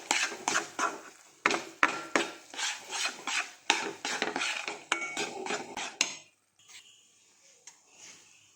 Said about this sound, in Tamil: எல்லா மாவையும் சேர்த்து நல்லா கலந்து விட்டுருங்க.